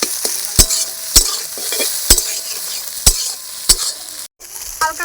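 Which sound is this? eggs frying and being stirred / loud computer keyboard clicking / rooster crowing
eggs frying and being stirred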